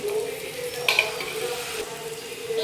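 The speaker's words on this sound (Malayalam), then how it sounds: "നമ്മൾ കഴിഞ്ഞ് വെച്ച ചിക്കൻ നമുക്ക് ഇതിനകത്ത് ഇട്ട് കൊടുക്കാം" Chicken hits a hot pan for a chicken curry, giving a close, steady frying sizzle with a brief metallic scrape and clink of utensils partway through.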